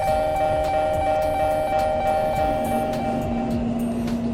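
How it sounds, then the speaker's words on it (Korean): A train pulls away with steady clattering over the rails and sustained tonal whining that shifts pitch as it gathers speed, loud and continuous, with no talking. "퀴어 전용구역행 열차 지금 출발합니다"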